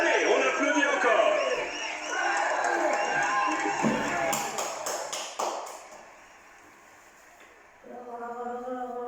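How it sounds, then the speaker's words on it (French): At a Tour de France podium ceremony, a crowd applauds and cheers in a rolling wash of clapping and shouts, while a commentator's voice talks over it and a sharper burst of claps rises midway. "Allez, on applaudit encore."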